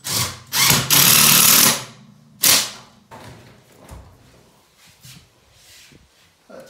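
Power drill driving a hex head screw into plywood while fitting stainless steel benches inside a vintage food caravan; a long loud whirring burst, then a shorter one, followed by quieter clatter and handling noise.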